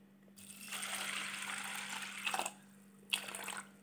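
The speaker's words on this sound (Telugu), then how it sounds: "ఇప్పుడు ఈ పప్పులో తగినన్ని వాటర్ వేసుకోవాలండి." Water is poured into a pot of about 100 grams of toor dal lentils for Andhra-style pappu: a soft, fairly quiet gushing pour that runs for about two seconds, then a shorter second splash.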